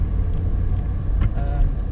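A car engine labouring uphill in second gear, a low steady rumbling drone from inside the vehicle with a brief higher sound partway through.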